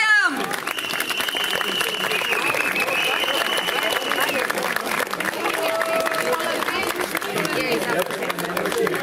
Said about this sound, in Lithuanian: Plojam, plojam,